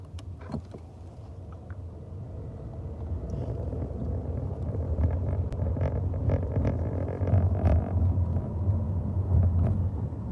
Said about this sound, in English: you know this old Ford ain't got no DPF on it no more